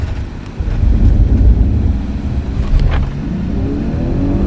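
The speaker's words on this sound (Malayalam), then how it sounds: "ട്രാക്ഷൻ കൺട്രോൾ ഓഫ് ചെയ്തിട്ട് ഒരു launch control, 740 LI petrol variant ആണ്" A BMW 740Li petrol sedan launching hard with traction control off on an empty road, its engine roaring up loudly and close, then holding a steady drone as it pulls away.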